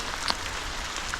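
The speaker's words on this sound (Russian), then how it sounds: "Дождь все усиливается." Steady rain patters outdoors in a mountain village in Turkey during a storm, a soft continuous hiss with a few brief drop-like ticks, no voices.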